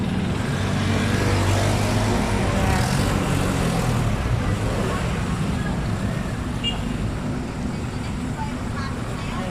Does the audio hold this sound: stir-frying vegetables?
no